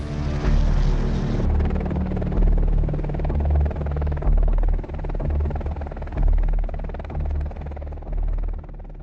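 An AH-64E Apache attack helicopter's rotor throbs with a deep, pulsing low rumble and a steady buzzing drone, loud and continuous with no voices.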